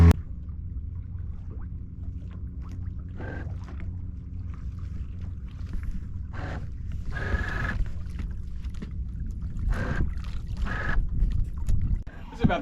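A Cape Dory 28 sailboat under motor on the Chesapeake Bay, a low steady engine drone with wind buffeting the microphone and occasional water splashes and knocks, with no voices.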